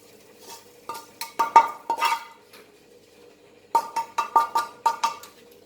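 Semolina, sugar, almonds and cashew nuts are mixed in a bowl with a spoon, giving two bursts of rapid scraping clinks against the dish, close and clear, separated by a quiet pause.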